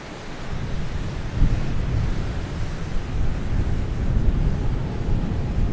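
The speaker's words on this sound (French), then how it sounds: "je vais même jouer avec les mouvements des vagues que je vois là-bas" Ocean surf rolls in at a scenic coastal landscape photography spot, a continuous broad wash of breaking waves with gusts of wind buffeting the microphone, loud and close.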